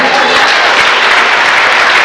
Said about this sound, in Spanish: Dale los fuerte el aplauso a Cristo.